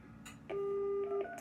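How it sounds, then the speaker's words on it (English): A landline phone sitting on top of a PBX is dialed with DTMF tones: a short blip, then a steady, clear tone holding for most of a second, with faint clicks at the edges. "Let's see if I can dial this landline phone that's sitting there on top of the PBX."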